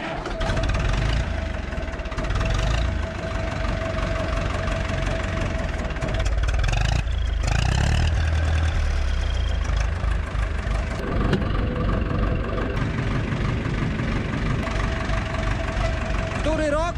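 A 1982 tractor engine idles steadily at close range while haymaking, a low, continuous rumble with a faint knocking rhythm that runs through the whole stretch, briefly swelling around the middle before settling back.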